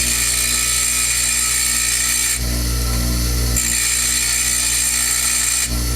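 A diamond burr grinds the valve of a Briggs engine from an old Lawnboy commercial lawnmower. The grinding is a loud, continuous whir whose tone and load shift twice as the pressure changes.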